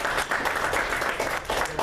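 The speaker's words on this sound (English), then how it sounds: "First of all, round of applause." An audience applauds at a political talk, giving a short burst of steady clapping at moderate distance that fills the whole moment.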